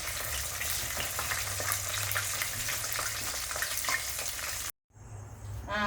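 Pork rinds deep-frying in hot oil for their second fry, a dense, steady crackling sizzle that runs loud and continuous, cut by a brief dropout near the end before the frying resumes.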